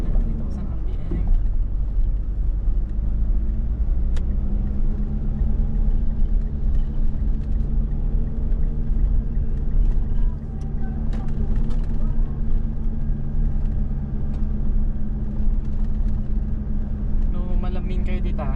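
A Mitsubishi Montero Sport engine holds a steady 3,000 RPM on a mountain drive, a loud continuous droning rumble inside the cabin with muffled voices now and then.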